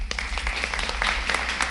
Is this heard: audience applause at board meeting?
yes